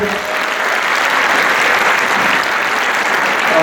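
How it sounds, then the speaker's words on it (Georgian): An audience claps loudly and continuously after a Georgian folk dance performance by a choreographic ensemble at a solo concert. The applause is a dense, even wash of many hands that holds steady throughout. "მადლობა და დიდი მადლობა თქვენს აპლოდისმენტებისთვის"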